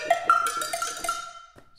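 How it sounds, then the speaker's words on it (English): A sampled cowbell from a cinematic percussion library rings out in a quick run of bright, metallic hits with a short decaying tail, heard alone and fairly close. "This is probably the most deeply sampled cowbell library you'll ever own."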